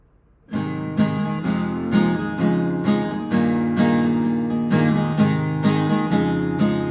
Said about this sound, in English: we have a little interlude where they're just playing chords